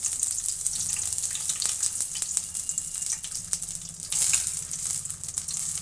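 Radish, onions and green chillies fry in oil for radish chutney, giving a steady close sizzle with sharp pops and crackles. The sizzle swells briefly partway through.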